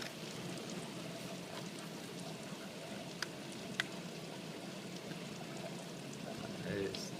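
Water leaks through a veranda in St Hilaire de Riez, a constant faint trickling and pouring hiss broken by a couple of small drip ticks, with quiet background stirrings.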